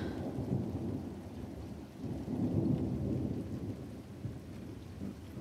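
Steady rain pours down with low, rolling thunder rumbling through, a continuous dense wash of sound with no voices.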